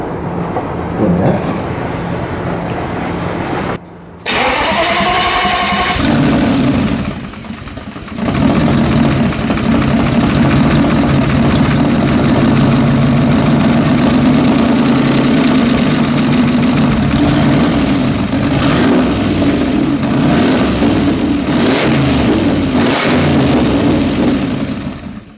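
A BMW E34 fitted with an N52 Valvetronic engine runs loud and close, starting with a brief rev and a short cut, then settling into a steady, throbbing idle that continues with no talk.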